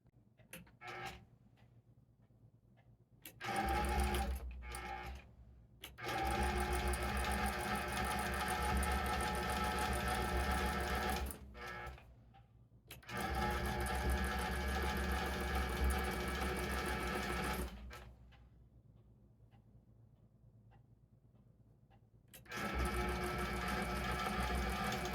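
Long-arm quilting machine stitching a scrappy 9-patch snowball quilt, running in steady mechanical bursts of several seconds each with quiet pauses between, close and moderately loud with no talking.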